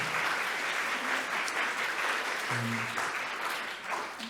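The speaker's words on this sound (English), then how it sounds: "Let's give a round of applause." Audience applause after a talk at a university museum event on climate education, steady, even clapping from a moderately sized crowd lasting throughout, with a brief murmur of voices near the middle.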